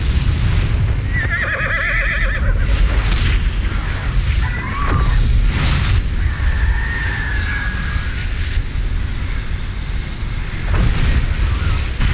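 A six-legged horse in the video game Final Fantasy XVI whinnies loudly in a couple of wavering calls, set against a rumbling, booming game soundscape with faint hoof clatter.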